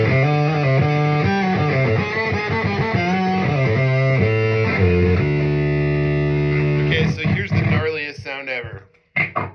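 Electric guitar played through an Audio plasma coil fuzz pedal with a lower octave effect and no cabinet simulation, loud buzzy sustained notes and chords before the playing breaks up into choppy bursts.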